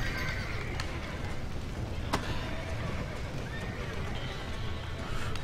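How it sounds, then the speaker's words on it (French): Panicked horses neighing and whinnying in the Red Dead Redemption video game, shrill calls rising over a dense, noisy background with faint hoof clatter. "Ah bah oui, ils sont tout paniqués, ils savent pas quoi faire les chevaux."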